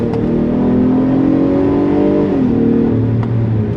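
A 2022 Acura MDX luxury crossover's engine at full throttle, a loud, steady cabin-heard rise of engine tone with a brief dip and shift mid-way, as from a gear change, continuing strongly to the end.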